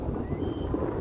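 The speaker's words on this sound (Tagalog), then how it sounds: "Sobrang lakas ng hangin." Strong wind buffets the microphone outdoors in Hong Kong, a low, continuous rumbling roar close to the mic with no voices.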